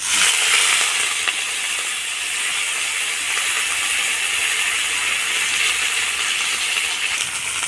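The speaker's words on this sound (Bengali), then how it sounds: "তেল গরম হয়ে গেছে, এবার আমি নিম পাতাটা দিয়ে দিই।" Neem leaves frying in hot oil, ready for frying brinjal, giving a steady loud sizzle and hiss close up with no talking.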